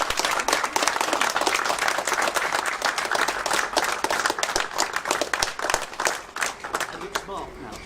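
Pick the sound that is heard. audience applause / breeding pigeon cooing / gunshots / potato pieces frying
audience applause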